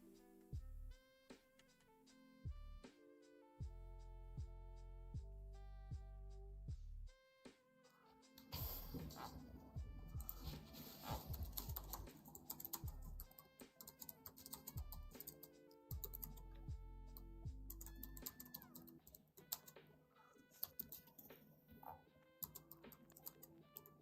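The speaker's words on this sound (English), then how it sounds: "He's typing a little long, isn't he?" Keyboard typing clicks through the second half, in quick irregular bursts, faint and mixed with other tonal sounds and background noise.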